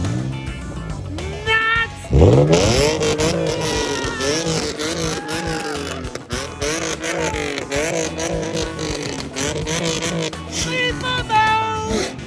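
A Nissan 350Z drift car fitted with loud aftermarket mufflers starts and revs hard: a sharp rising crank into a raspy, booming exhaust that climbs and falls through repeated throttle blips, with voices talking over it near the end.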